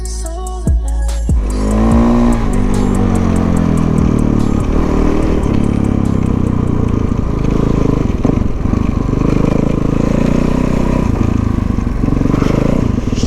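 Stunt bike engine revving: a sharp rising whine at the start, then a loud, sustained rasping roar with fluctuating pitch that continues close by to the end.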